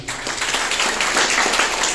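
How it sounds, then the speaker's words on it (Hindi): Audience applause at an outdoor martyrs' memorial fair in India, a short burst of dense, even clapping throughout. "इसके लिए जोरदार तालियां।"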